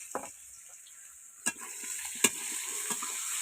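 Potatoes fry in oil in a pan, a continuous close sizzle punctuated by a few sharp scrapes and knocks of a stirring spoon.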